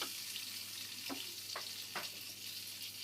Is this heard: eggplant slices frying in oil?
yes